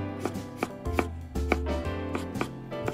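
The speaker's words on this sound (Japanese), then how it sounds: "皮を剥いて芯を取り、" A knife finely chopping peeled garlic on a cutting board, a quick series of close, crisp taps in an uneven rhythm with short pauses between bursts.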